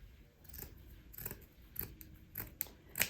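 Scissors snip through material cut to size for the top of a plant pedestal, a series of about seven crisp, close cuts at an uneven rhythm, quiet and with no talking.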